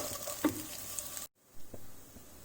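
Carrots with curry leaves sizzle and fry in a pan while being stirred. The steady frying hiss has a few stirring knocks, cuts out briefly, then resumes more quietly.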